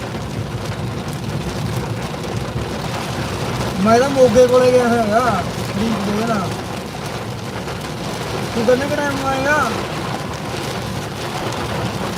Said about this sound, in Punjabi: ਮੈਂ ਮੀਂਹ ਵਾਲਾ ਪਈ ਜਾਂਦਾਗਾ